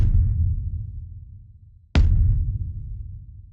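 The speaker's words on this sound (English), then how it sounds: "So you can hear it's kind of like this big warehousey, almost like a techno kick actually." Layered warehouse techno-style kick drum, two deep booming hits about two seconds apart, each with a sharp attack and a long low decay, loud and alone.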